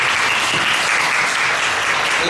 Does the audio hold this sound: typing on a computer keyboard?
no